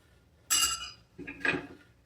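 A metal bar spoon clinks against glassware while maple syrup is measured for a Starlight Double Oaked bourbon cocktail. Two short, bright clinks come about a second apart, close and fairly quiet against a still room.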